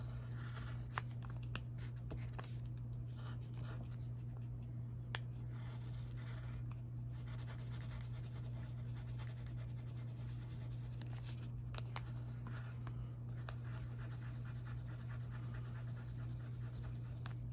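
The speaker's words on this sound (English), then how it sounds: "Next, I will be drawing on some of the details." A pen or marker draws face details onto a Hatsune Miku puppet, making faint, intermittent scratchy strokes over a constant low hum in a quiet room.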